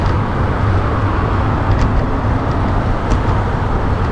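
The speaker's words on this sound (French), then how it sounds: "Beaucoup de circulation sur ce gros boulevard" Steady, dense road traffic on a large boulevard south of Drummondville, a continuous loud roar of passing cars and heavier vehicles with a few louder pass-bys, recorded close to the roadside.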